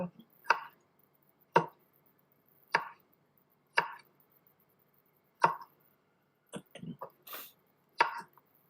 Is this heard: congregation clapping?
no